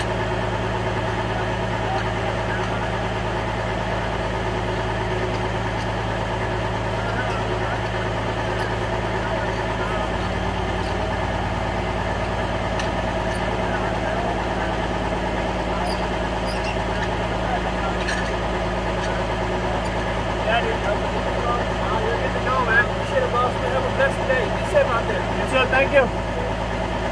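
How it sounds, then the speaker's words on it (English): A truck engine idling and running steadily nearby after the truck has been pulled out of mud, a continuous low drone with some clatter and brief sharp sounds near the end. "Truck's out of the mud."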